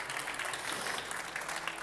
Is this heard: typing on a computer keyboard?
no